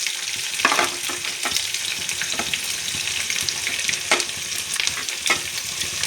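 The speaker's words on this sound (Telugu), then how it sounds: "కొంచెం జీలకర్ర, ఉల్లిపాయలు తాలింపులోకి కట్ చేసి పెట్టుకున్నానండి. ఈ నూనెలో వేయాలి." Cumin seeds and chopped onion hit hot oil for a tempering for drumstick-leaf dal, a dense, loud sizzle with repeated scraping stirs and no voices.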